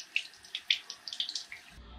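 Water pours into an Instant Pot over squirrel meat, a faint splashing trickle with small bright plinks and drips that stops abruptly near the end.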